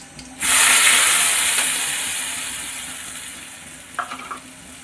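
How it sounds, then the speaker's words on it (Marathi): Ground masala paste hits a hot pan of curry leaf and garlic tempering, setting off a loud sudden sizzle that slowly fades to a steady hiss, with a few stirring scrapes near the end. "फोडणीसाठी कढीपत्ता आणि लसूण टाकलेला आहे आणि आता याच्यामध्ये टाकणार आहे वाटण."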